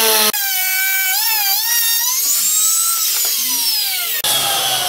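A router mills an MDF board with a loud, sustained whine that starts abruptly, shifts pitch as the cut loads and eases the motor, then stops sharply and leaves a brief noisy hiss at the end.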